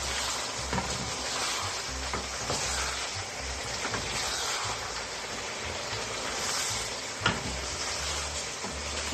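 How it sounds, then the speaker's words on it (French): Green plantain simmering in sauce in a pan, a continuous soft bubbling and sizzling hiss that stays even throughout, with no voices. "On va laisser mijoter même 2 minutes."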